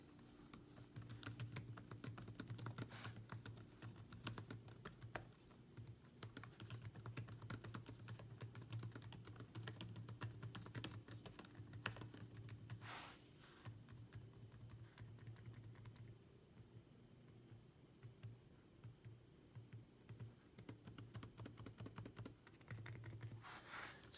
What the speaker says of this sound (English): what the keyboard sounds like now